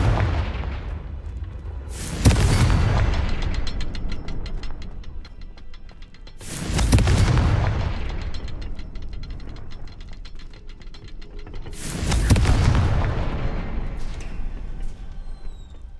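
In Hogwarts Legacy, three Confringo blasts land a few seconds apart, each a sharp, loud burst followed by a long ratcheting, crackling decay before the next explosion hits.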